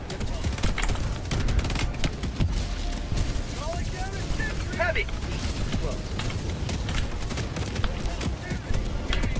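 Grenade blasts and rapid gunfire from the video game Helldivers 2 make a dense, continuous battle din of booms and shots, with someone speaking over it throughout.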